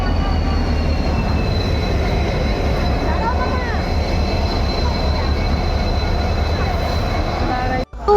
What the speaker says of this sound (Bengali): সো আমাদের ট্রেন ঢুকে গেছে